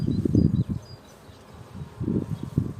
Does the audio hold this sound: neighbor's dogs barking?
no